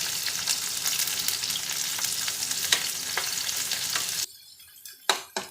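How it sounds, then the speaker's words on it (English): Onions sauté in hot oil with a continuous close sizzle and stirring for a microwave masala rice. The sizzle cuts off abruptly near the end, leaving a few scattered clinks. "We will saute the onion"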